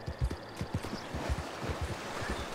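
A horse gallops in Red Dead Redemption 2, its hooves pounding a quick, irregular rhythm of low thuds over soft background ambience.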